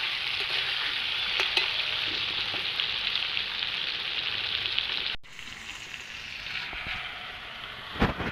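Pangas fish frying in oil in a pan, a continuous bright sizzle with occasional crackles and pops that drops abruptly in level midway, then carries on more softly.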